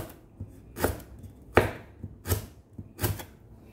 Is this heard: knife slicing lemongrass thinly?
yes